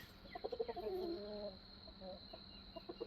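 A backyard hen kept in a garden clucks in a short series of soft, close murmuring calls, with a few quieter clucks afterward over faint background hiss and a steady high whine.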